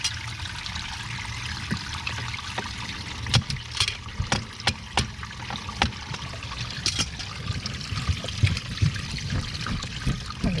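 Water leaks from a failing hot tub pump, giving a faint trickle and dribble over a low rumble. Scattered sharp drips and taps come at irregular intervals throughout.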